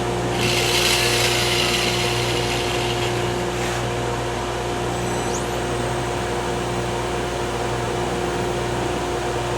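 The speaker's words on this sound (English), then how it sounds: "This is Milwaukee, same thing as the Sioux angle grinder. It's variable speed. It's also reversible." A Milwaukee variable-speed, reversible angle grinder runs steadily and loudly close by, holding a constant motor whine with a strong hum throughout, and no speech over it.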